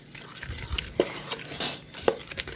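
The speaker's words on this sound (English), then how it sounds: "you want to get all the sugar mixed in so it's not on the bottom of the" A utensil stirring sugar into pineapple pulp in a pan, with scraping swirls and a few sharp clinks against the pan.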